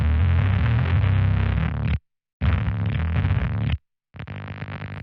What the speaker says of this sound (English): if I push the voltage too high, we start getting a lot of crackly and unwanted noise.